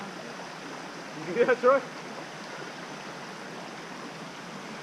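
A river swollen after a thunderstorm rushes steadily as a broad, even wash of water noise, with a short spoken question briefly over it.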